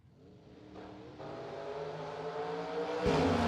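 Drag racing cars, a Ford Maverick and a Chevy Nova, rev and accelerate at a race event, a fairly distant engine roar climbing steadily in pitch and loudness over a few seconds.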